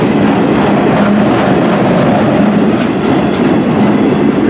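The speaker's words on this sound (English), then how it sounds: "it's a northbound train" A CN M384 freight train passes close by in Port Huron, Michigan, its rail cars rolling with a loud, continuous rumble and rhythmic clickety-clack of wheels over rail joints, no talking.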